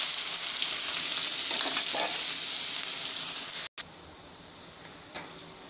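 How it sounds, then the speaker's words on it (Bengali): Onions frying in a pan with whole cumin, dried red chillies and bay leaves give a steady close hiss, which cuts off abruptly, then resumes more quietly with a small clink. "পেঁয়াজটা আমি লাল লাল করে ভেজে নেবো"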